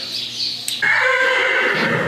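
A horse kept inside while its companion is outdoors lets out a loud, close neigh that rises into a long shrill whinny, ringing in an indoor space.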